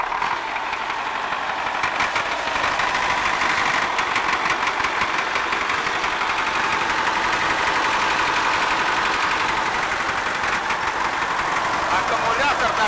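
Diesel engine of an MTZ-80 tractor idling steadily after starting, a continuous mid-pitched rumble with faint knocking, close by, while being recovered by a ZIL Bychok tow truck.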